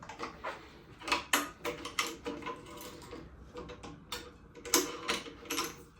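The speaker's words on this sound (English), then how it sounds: "So let's get this side tensioned and clamped." A tennis racket stringing machine tensions and clamps strings, giving irregular close mechanical clicks, ratcheting ticks and small knocks at moderate level, with no voices.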